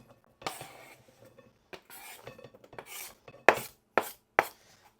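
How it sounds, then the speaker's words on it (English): A knife chops an onion on a board in a home kitchen: scattered light cuts first, then three sharp, distinct chops close by, with no voices over them. "Uncensored onion cutting."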